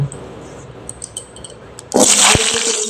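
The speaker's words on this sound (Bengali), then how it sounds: "এবার তেলের মধ্যে আলুগুলো দিয়ে আমি আগে ভেজে নেব" Potatoes drop into hot oil in a pan for a prawn and pumpkin curry. After quiet kitchen clatter, a sudden loud, sustained sizzle bursts out near the end.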